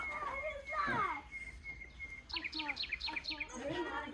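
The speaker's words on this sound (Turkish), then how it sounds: "Akşamüstü ne güzel kuş sesi var bak" Birds chirp in quick repeated trills and tweets nearby in the evening in a village while people talk over them outdoors.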